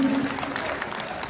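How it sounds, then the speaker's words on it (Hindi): Brief applause from an audience at a rally of fiery patriotic songs, a short burst of clapping with a held sung or spoken tone in the first moment. "आपकी तालियां बिल्कुल कमजोर हैं"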